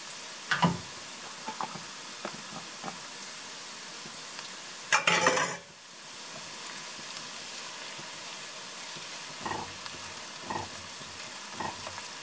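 Garlic fries in a cast iron Dutch oven with a soft, steady sizzle, broken by a few sharp scrapes and clinks of a utensil against the pot, including one louder burst of stirring midway.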